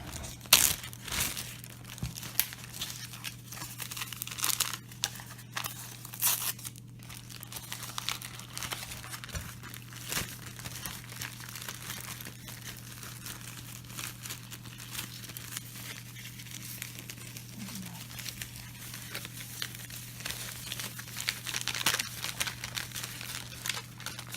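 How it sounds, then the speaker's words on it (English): Noodles, milk and butter are packed into a plastic sandwich bag for a backpacking mac and cheese with Spam, giving soft, intermittent crinkling and rustling close by over a low steady hum, with no talk. "I'm going to pre-package this along with the milk and the butter into a different sandwich bag to take"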